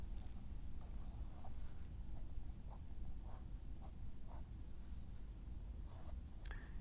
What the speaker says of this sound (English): And then I'll sketch in the last one,